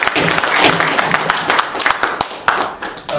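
Audience applause in a church hall auditorium at a civic movement's founding ceremony, a burst of clapping that swells and then thins into scattered claps, with a few sharper individual hand slaps.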